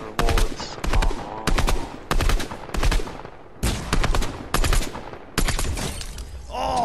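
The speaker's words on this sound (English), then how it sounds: "I caught him with the headshot while he was in midair" Gunfire in the video game Fortnite comes in loud, close rapid bursts of automatic shots separated by short gaps, with a glassy ring at the end of the last burst.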